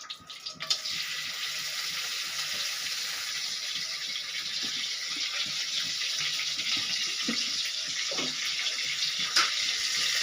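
Whole spices, including poppy seeds, bay leaf, stone flower, cinnamon and cloves, fry in hot oil for a Nagercoil-style fish curry, making a steady hissing sizzle with a few small pops and crackles.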